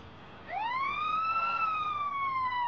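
A siren rises and then holds a steady wailing tone, loud and clear over faint background noise.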